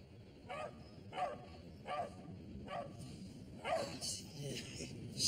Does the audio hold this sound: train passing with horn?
no